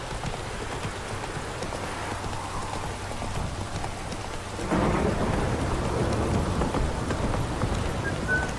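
Steady rain hissing in The Witcher 3, then a sudden loud rumble of thunder that swells and rolls on under heavier downpour.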